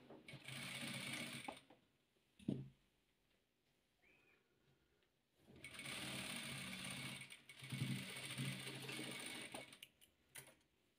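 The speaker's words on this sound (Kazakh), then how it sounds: "Енді осыны бір-біріне тігіп аламыз." A sewing machine stitches patchwork pieces together in two long runs of steady mechanical whirring and ticking, separated by a pause with a few clicks and thumps, fairly close and with no talk.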